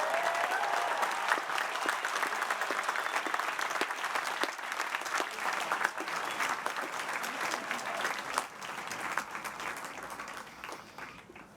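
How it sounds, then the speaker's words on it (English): A large commencement audience at Bucknell's 2018 ceremony applauds graduate degree recipients, sustained dense clapping that carries on for about eleven seconds before tapering slightly, with no talking. "Please join me in applauding these excellent degree recipients from the Graduate Studies program"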